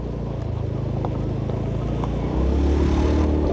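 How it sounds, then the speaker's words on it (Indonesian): A car passes on a narrow paved village road in Bonosari, Sempor, Kebumen, a steady close engine rumble that swells louder near the end, heard alone without talk. "Mobil."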